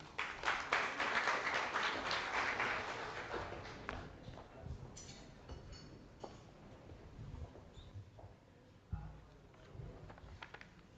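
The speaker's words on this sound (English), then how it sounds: "Please give a warm round of applause to Mr." Audience applause for a speaker at a cybersecurity and democratic resilience forum, a dense burst of clapping in the first few seconds that thins and fades to scattered claps and room noise.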